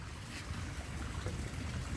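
Water pouring and splashing steadily from the nozzle of a collection bottle, a continuous close, fairly loud gushing trickle that carries on for the whole stretch with no voices.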